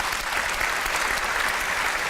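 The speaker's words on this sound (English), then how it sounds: "At least I got one clap for Rana Plaza." An audience claps during a conference talk, a brief, dense, even burst of many hands applauding with no voices over it.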